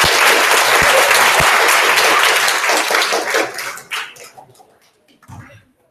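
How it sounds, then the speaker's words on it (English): Audience applause for a guest speaker at a university public talk, loud dense clapping that thins out and fades to a few scattered claps and near silence. "Please give a round of applause for Dr."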